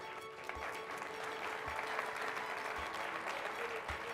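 Audience applause greets panel speakers at a Cercle d'Economia round-table event in Barcelona, a steady, moderately loud wash of clapping that holds evenly for several seconds.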